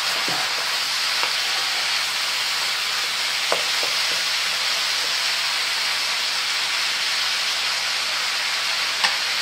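Onions, shallots and garlic fry in a hot pan for Provençal-style squid, giving a steady, dense sizzle close by with a few faint ticks and no voices.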